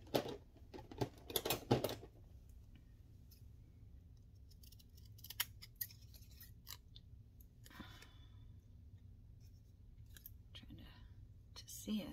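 Scissors snip through a paper bag in a brief cluster of crisp cuts near the start, then quiet rustling and handling of the bag follow with faint background hum.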